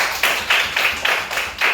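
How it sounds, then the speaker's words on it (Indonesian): Children clap together in a classroom to cheer a presenting group, a steady run of about six sharp claps, close and fairly loud. "Tepuk tangan dulu untuk kelompok 1"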